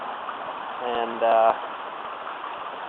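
A shallow stream of water flowing gently, enough volume to run a gravity gold dredge, with a steady low wash of moving water running throughout while someone speaks over it.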